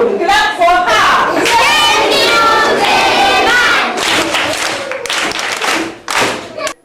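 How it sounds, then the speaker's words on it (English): Classroom of children clapping for a pupil, a loud burst of many hands mixed with cheering voices, close and continuous before tapering off. "Clap for her."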